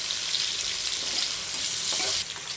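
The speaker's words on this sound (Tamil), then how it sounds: "இது நல்லா வதங்கட்டும்" Onion and tomato sauté in oil with a pinch of salt, giving a close, continuous frying sizzle with soft stirring scrapes and no talk.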